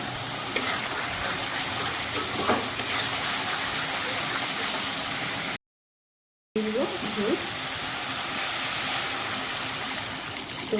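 Broth poured onto fried, well-cooked spices in a pan for a spiny gourd curry gives a steady rushing, sizzling hiss that runs on with a short break, while someone talks over part of it.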